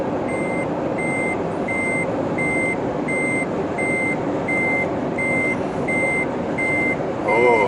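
A Toyota Prius sounds a steady series of evenly spaced warning beeps for an unlatched hatchback, repeating about every half second over constant road and cabin noise inside the moving car.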